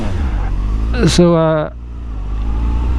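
A Honda Hornet 600 carbureted motorcycle engine rumbles steadily while riding, briefly rising in a sharp rev before settling back into a low drone; someone says a single word.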